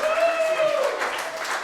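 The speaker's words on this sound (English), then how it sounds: "the crowd here in Abilene, Texas is giving it their all. What a round of applause." Crowd applause fills an arena after a professional wrestling match in Abilene, Texas, a dense steady clapping wash with a commentator talking over it.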